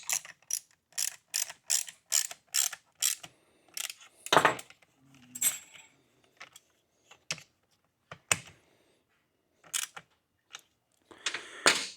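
A 10 mm nut is snugged up on a Ford Focus roof rack with a ratchet, producing a run of quick, close clicks in bursts, then a few scattered ratcheting clicks with pauses between.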